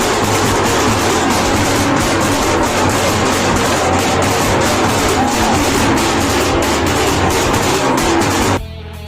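A train bound for Sealdah station, Kolkata, rumbles and rattles loudly and continuously, with rhythmic clatter and a busy background, before the noise drops away abruptly near the end.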